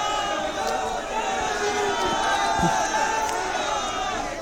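A large, dense crowd in Kairana welcomes Amit Shah during a door-to-door campaign, with showered flowers, sustained cheering and shouting, and a continuous, steady roar of many voices throughout.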